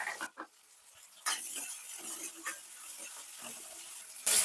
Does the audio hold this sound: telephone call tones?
no